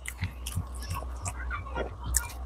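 Chicken momos are chewed during an eating challenge, with soft, close, wet mouth sounds and small bites repeating quickly over a faint low hum.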